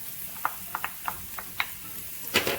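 Vegetables fry in a pan for vegetarian cabbage rolls, a soft continuous sizzle with faint crackles and light stirring clicks scattered through, plus a louder scrape near the end.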